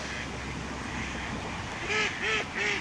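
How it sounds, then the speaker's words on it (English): Three loud honks from geese or ducks, evenly spaced, close by over a steady outdoor background hum, in an old town in Nantwich. "Plenty of ducks and geese."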